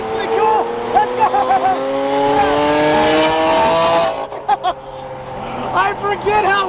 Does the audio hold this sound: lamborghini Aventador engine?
yes